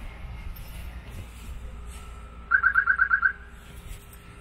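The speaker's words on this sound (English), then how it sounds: "excuse that annoying sensitive alarm" Distant car alarm chirping in a quick run of about seven pulses, set against quiet residential background hum and faint outdoor sounds.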